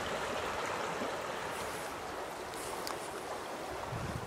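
River rapids rush past a far bank in a steady, unbroken wash of water noise, moderately faint and with no voices.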